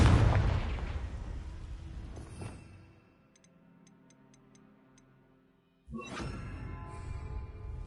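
In Hogwarts Legacy, a Confringo fire-blast spell detonates in a loud burst that rolls off into a decaying rumble, followed by quiet ticking and a second sharp blast near the end.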